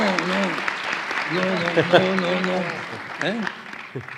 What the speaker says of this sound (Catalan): Un aplaudiment també pel Josep Maria.